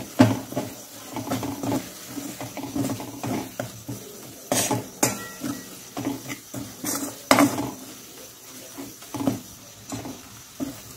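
Kala masala spice mix being fried and stirred in a pan for mutton kheema, heard as repeated metal spatula scrapes and clanks against the pan over a faint low sizzle, with no speech.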